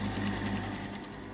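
A sewing machine flat stitches along the turned seam of a woven dress facing, a brief, soft, steady mechanical whir with a fast even pulse.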